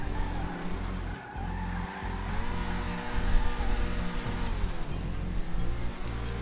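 Toreador sports car from a driving game climbing a hill, a loud continuous engine drone with shifting revs and brief tire skids, no voices over it.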